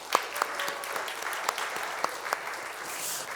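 A church congregation at a Sunday service giving brief, scattered applause, fairly faint with a few distinct claps standing out over a soft wash of clapping.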